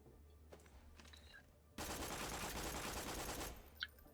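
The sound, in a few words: Dahl Sandhawk SMG firing in video game Borderlands 2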